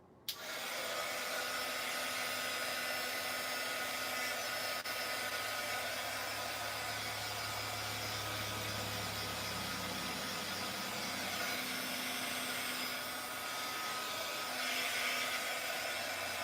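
A heat gun blows continuously over epoxy on a glitter tumbler, a steady, loud hair-dryer-like whoosh with a motor hum that starts abruptly and runs unbroken to the end, no voices over it.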